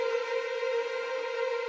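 A Berlin Strings virtual string instrument in Cubase plays a whole-tone trill, heard as a bright, sustained, buzzing string tone with a slight rapid waver, alone and brief.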